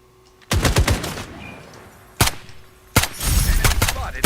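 Gunfire in the shooter game FragPunk: loud, close bursts of rapid automatic fire in three volleys separated by short pauses, with faint voice lines in between.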